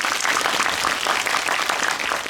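An audience at a film talk event applauds the editor-in-chief, a dense, continuous crowd applause that stays steady and loud throughout without a break.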